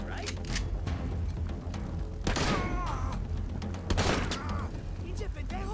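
Gunshots fired at target pins at a shooting range in Wasteland 3, a few sharp reports spaced apart amid game music and background noise, with voices talking throughout.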